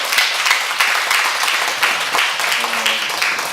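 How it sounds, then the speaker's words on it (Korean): A church congregation at a Friday late-night prayer meeting applauds warmly, a dense, steady wash of many hands clapping throughout, with a voice faintly audible beneath. "다시 한번 우리 뜨거운 박수 한번 부탁드리겠습니다."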